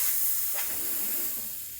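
Steady hiss of steam from the steam valve of a Breville BES920 espresso machine, a continuous close, fairly loud rush with no voices.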